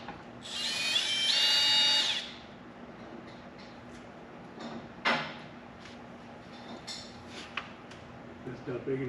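A power drill bores holes into the thick aluminum side of a trailer, one loud whining burst of about two seconds, followed by quieter clicks, knocks and handling sounds.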